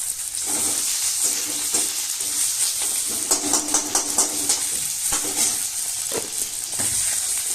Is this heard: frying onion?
yes